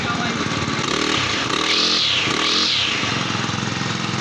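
Bigboss brand grass cutter engine running steadily, a buzzing two-stroke drone that swells briefly as it revs, close and loud, with people talking over it.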